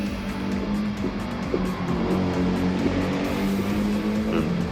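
Race car in the Gran Turismo 7 video game held flat out around a track, a continuous loud engine drone with steady tire and road noise, no pauses, alone without talk.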